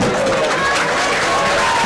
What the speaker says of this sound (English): a happy homecoming crowd here at Marshfield High School